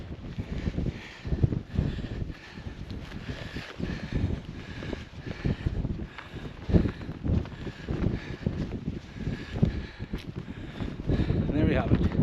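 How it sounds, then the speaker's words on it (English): Strong, gusty wind blows across a Scottish hillside on a wild-camping hike, roaring and buffeting the microphone in continuous surges, with a person talking through it. "It's actually not too bad getting here. I mean, very, very windy."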